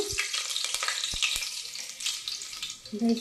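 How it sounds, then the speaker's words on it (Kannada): Chopped onions dropped into about 200 grams of hot oil for chicken dum biryani, crackling and sizzling steadily at close range with a few sharp pops and stirring clinks, no talking. "ಈಗ ಎಣ್ಣೆ ಕಾದಿದೆ. ಈರುಳ್ಳಿ ಹಾಕೊಂಡ್ಬಿಡ್ತೀನಿ."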